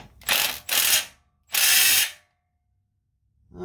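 A Milwaukee impact wrench hammers on a welded axle bolt during a Jeep CJ-7 axle swap, firing three loud, close rattling bursts that stop abruptly, with silence before a fourth starts at the end.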